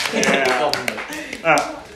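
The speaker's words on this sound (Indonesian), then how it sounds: "Tepuk tangan lu buat Dede dan Komang" A small audience at a student executive board talk session gives a few scattered hand claps for Dede and Komang, sharp close taps mixed with voices talking over them.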